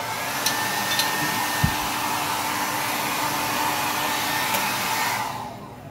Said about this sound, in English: You just take your favorite blow dryer